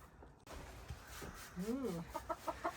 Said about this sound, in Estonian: Kanad sätivad juba tuppa